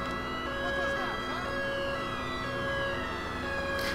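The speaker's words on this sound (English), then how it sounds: "I feel tempted to turn the siren off" Police car siren in the GTA IV LCPDFR mod on an unmarked Met Police Volvo V40, a steady wailing tone running faint but continuous throughout with background game noise.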